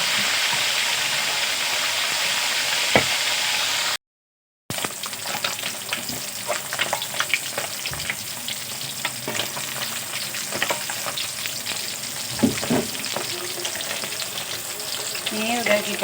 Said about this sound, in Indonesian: Kita goreng dulu ikannya.